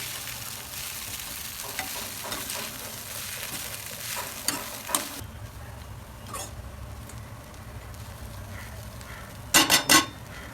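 Potato poha is stirred and mixed in a hot pan: continuous scraping and sizzling, a pause, then a quick burst of loud metallic clatter from the utensil against the pan near the end.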